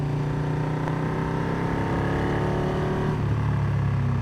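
A car drives along a narrow road, its engine a loud, steady drone that holds close throughout with a slight shift near the end, and no voices over it.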